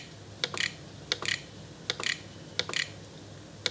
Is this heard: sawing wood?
no